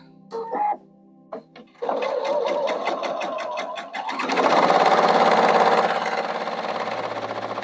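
A sewing machine runs a scant quarter-inch seam on quilt pieces, starting after a few clicks and then whirring steadily and close, speeding up partway through.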